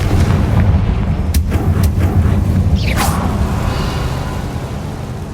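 An explosive spell is cast in the video game Hogwarts Legacy, with a sharp crack and whooshing blast rising over a loud, constant rumbling game background, followed by brief fiery swishes.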